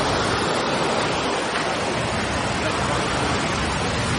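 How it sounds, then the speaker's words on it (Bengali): A rain-season waterfall on the route from Kolkata to Siliguri pours nearby, its heavy roar loud, broad and constant from start to finish. "ওই ঝর্ণার ওই জায়গাটা বিভৎস লাগছে।"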